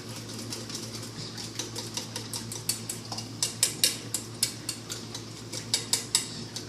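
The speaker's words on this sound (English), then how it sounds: "Mix that all in there." Eggs and grated Parmesan beaten together in a bowl with a utensil, giving rapid, steady clinking taps against the bowl's side, close and fairly crisp, with no voices.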